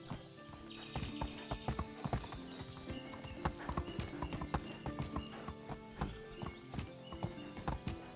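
Horses in Medieval Dynasty clip-clop in a steady hoof rhythm of sharp, close knocks, while a whinny and droning game music play alongside.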